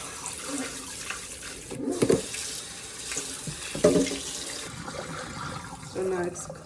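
A kitchen tap runs steadily while meat is washed under it for bean soup, a continuous close hiss of water with occasional splashes and clinks, and a voice speaks briefly over it.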